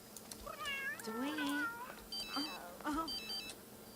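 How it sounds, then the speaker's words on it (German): A telephone rings in The Sims 3, with short repeated electronic ring bursts mixed among simulated character voices and meow-like chatter. "Telefon bei der Jenny."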